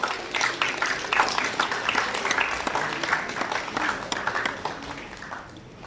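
An audience at a cultural program in Odisha honouring a sponsor breaks into steady applause, dense hand clapping that is loud at first and slowly fades, with some crowd noise underneath.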